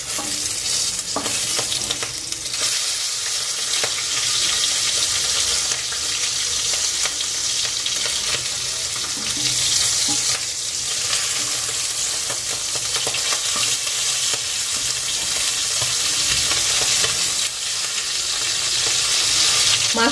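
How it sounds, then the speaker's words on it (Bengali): Hilsa fish head frying in hot oil, a loud, steady sizzle running unbroken throughout with occasional crackles and stirring scrapes, close and alone without speech. "এবার ইলিশ মাছের মাথাটা ভাজার জন্য দিয়ে দিচ্ছি।"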